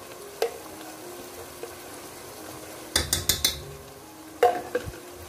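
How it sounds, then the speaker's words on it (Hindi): Masala with ginger garlic paste frying in a pan for a chicken and potato curry, a soft sizzle under brisk bursts of spoon clatter and scraping against the pot, close by and free of speech. "और इसको भी अच्छे से मिक्स कर लेते हैं। और इसको हम अच्छे से भूनेंगे"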